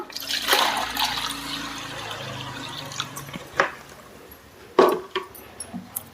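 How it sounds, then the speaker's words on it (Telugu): Water gushes and pours into a plastic spray bottle for a couple of seconds, then trickles off, followed by a few sharp plastic knocks and drips. "ఇప్పుడు దీన్ని నేను స్ప్రే బాటిల్లో వేస్తాను"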